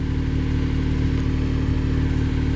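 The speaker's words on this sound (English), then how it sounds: "We're going to change it to 1500 RPM, which is actually pretty high. We're idling up, sweet." Jeep Wrangler JK engine raised to a high 1500 RPM idle, a steady, loud mid-pitched hum with no change in pitch.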